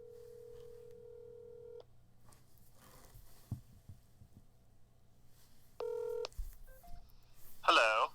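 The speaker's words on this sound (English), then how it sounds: "let's see if we can get Nate on the phone here" Telephone dialing to call a guest on a live show: a steady tone that cuts off, then clicks and quiet hum, followed by a rapid burst of dial-tone beeps, with a voice talking over it.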